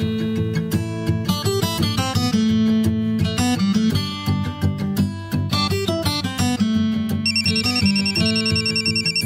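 A phone rings with a loud, melodic electronic ringtone, repeating tuned phrases in a steady rhythm close by, with a higher chiming layer joining near the end.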